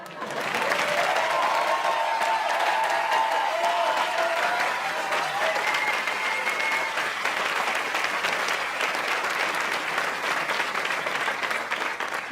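A studio audience at a French comedy show applauds steadily for about twelve seconds, a dense, sustained clatter of many hands with a few faint cheers mixed in.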